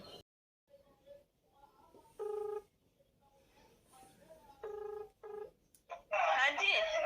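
A phone places a call: a few tones beep as a number is dialed, then repeated electronic ring tones sound close by, with brief quiet gaps and no talk.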